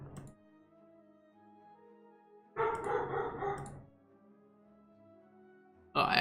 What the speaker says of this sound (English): I'm really sorry for the dog.